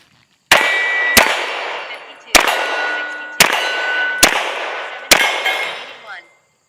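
Bullets from Ammo Inc. stealTH ammunition strike steel plates at near and far distances during competition-style shooting. Six sharp, loud metallic clangs ring out at uneven intervals, each trailing off in a ringing decay.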